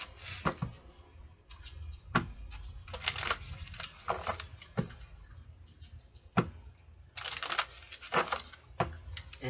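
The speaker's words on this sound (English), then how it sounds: "And these I will shuffle out." Tarot cards are shuffled by hand, with close, irregular papery riffles, slides and soft slaps repeating in uneven bursts.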